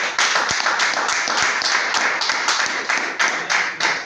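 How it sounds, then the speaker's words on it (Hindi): Trainees at a sales training session clap loudly and close by, in an even, rhythmic beat of roughly two claps per second. "रहमान साहब के लिए भरपूर ताली दी जाएगी।"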